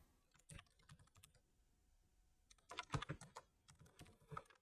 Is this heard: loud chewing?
no